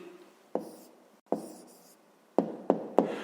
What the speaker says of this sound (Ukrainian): Зараз записуємо тоді відповідь, пишемо відповідь